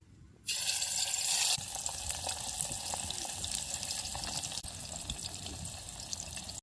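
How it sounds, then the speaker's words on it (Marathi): Tilapia pieces frying in hot oil in a pot, cooked outdoors by a river, give a steady loud hiss and crackle that surges when the fish goes in and then holds evenly throughout. "तेल मस्त तापलंय आता टाकून घेते मासा"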